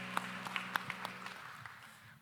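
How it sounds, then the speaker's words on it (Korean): A church congregation applauding during a worship service, a short scattered burst of claps with a few sharp individual hits standing out before fading quickly. "우리 박수로 서로의 삶을 응원하며 축복합니다"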